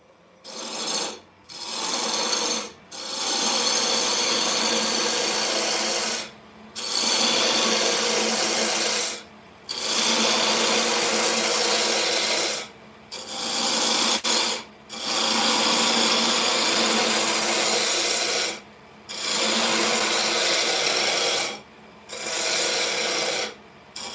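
A wood lathe turns a cake stand blank while a roughing out gouge cuts, giving loud continuous rasping scrapes. The bursts last a few seconds each and are broken by short regular pauses as the tool lifts off.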